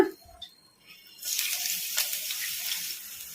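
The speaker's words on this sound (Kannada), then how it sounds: "ಉಳ್ಳಾಗಡ್ಡಿನ ಉದ್ದುದ್ದ ಕಟ್ ಮಾಡಿ ಇಟ್ಕೊಂಡಿದ್ದೆಲ್ಲ ಈ ಥರ ಈಗ ಇವನ್ನ ಹಾಕಿ ಫ್ರೈ ಮಾಡ್ಕೊಂಬಿಡೋಣ" Lengthwise-sliced onions drop into hot oil and burst into a soft, steady sizzle that carries on after a couple of faint clinks.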